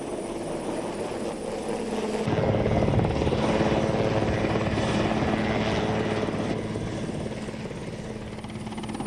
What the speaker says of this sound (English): Be vigilant as the helicopter approaches.